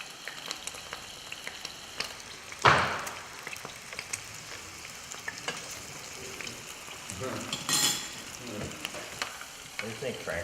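Boiled potatoes sizzle steadily as they fry in a pan, with occasional scraping stirs and one loud clatter of the utensil, and a little quiet talk nearby.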